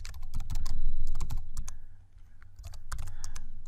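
Rapid, uneven clicking of computer keys as someone types, close and fairly loud, in irregular bursts with a short pause near the middle and no talk.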